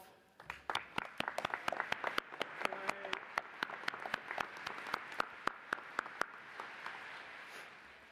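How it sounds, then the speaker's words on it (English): Sparse, distinct hand claps from a small audience at a teachers' assembly, irregular and echoing in a room, gradually thinning out toward the end. "give this affirmation the round of applause you all deserve"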